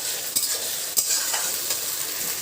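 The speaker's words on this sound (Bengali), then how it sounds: "এইবার মশলাটাকে ভাজার জন্য একটু টাইম দেবো" Ground spice paste for chicken biryani frying and being stirred in a pan, giving a steady close sizzle with a few sharper scraping stirs, no voices.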